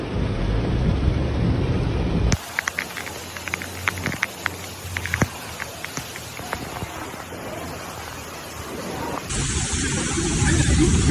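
Torrential rain during Storm Gabrielle in Ibi, Spain, as a loud, dense wash of downpour with a rumbling low roar, broken in the middle by a quieter stretch of scattered drips and taps before the heavy rain returns.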